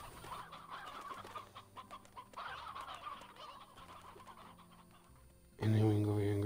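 Chickens clucking in the video game Slime Rancher, a steady stream of soft bird clucks running for several seconds, then a sudden loud burst of game sound near the end.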